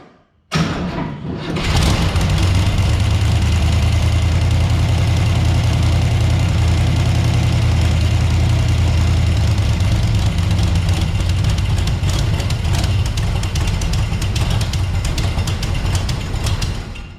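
An International rat rod truck engine cranks and catches after a short pause, then settles into a loud, rough, steady idle with a faint knocking beat running to the end.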